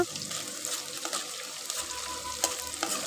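Onions fry in plenty of oil, a bright continuous sizzle with a few spatula scrapes and knocks against the pan, heard up close without talk.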